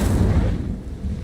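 A single Incendio fire spell cast in Hogwarts Legacy bursts out as a loud, short whooshing roar that quickly fades.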